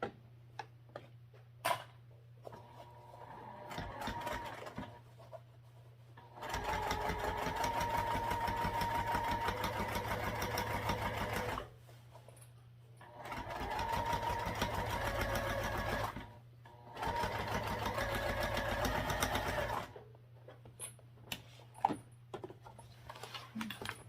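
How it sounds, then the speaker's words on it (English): A home sewing machine stitches fabric in three sustained bursts of steady rapid whirring, with short quiet pauses between runs and light clicks of handling in the gaps. "And then we'll just sew back down the other edge."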